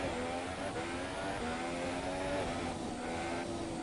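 Engines of race cars in an online racing video game hum and rev steadily, a sustained whine with slight pitch shifts, close and continuous with no voices.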